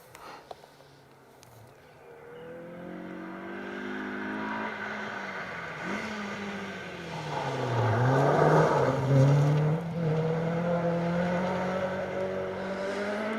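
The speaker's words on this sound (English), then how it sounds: "A couple of BMWs next up for us if all goes to plan." BMW 318 Ti rally cars on a rally stage, with an engine approaching and revving hard through the gears, growing louder as it nears and then holding a strong, rising whine close by.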